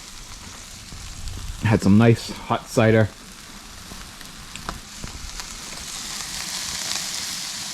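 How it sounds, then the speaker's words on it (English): Burgers sizzling on a grill, a steady frying crackle and hiss running throughout, with someone briefly talking over it near the start. "we got the burgers on the grill, sizzling away"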